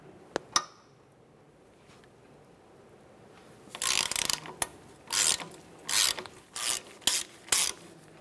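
A ratchet backs out a 12mm bolt holding the front brake flex hose to the strut on a 2006-2011 Honda Civic, heard as several short rasping bursts of clicking, preceded by a few isolated metallic taps.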